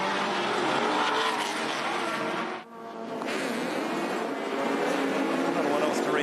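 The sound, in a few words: wheel spin of Mazda race cars at race start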